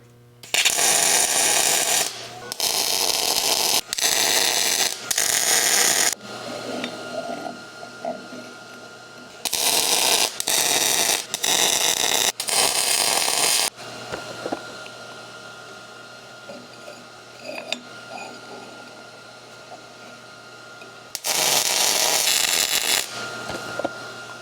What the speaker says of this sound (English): So let's go ahead and get these 6 plates welded out.